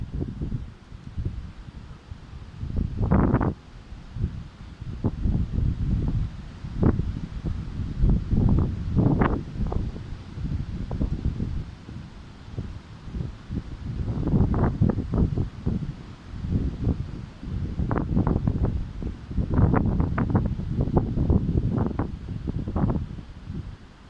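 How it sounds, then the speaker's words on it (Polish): Gusty wind from a storm roars through swaying trees in irregular surges, with rustling bursts rising and falling over a constant low rumble. "Jak widać drzewa się strasznie kołyszą ten odgłos niszczycielski."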